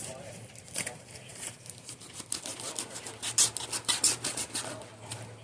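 A knife scraping and cutting through the cardboard packaging of a factory-sealed Midland HH-54, close rasping strokes and rubbing that get busier midway, quiet and alone.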